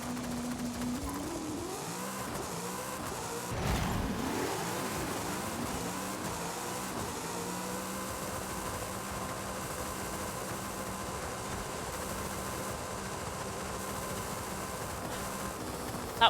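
A Camaro Pro Stock drag car accelerates in Forza Horizon 5, its engine tone sweeping upward through rapid gear changes before settling into a sustained high-revving drone, steady and fairly quiet throughout.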